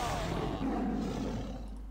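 A character's roaring skill in the Seven Knights video game produces a deep, loud, sustained roar that blends with dense game effects for about two seconds.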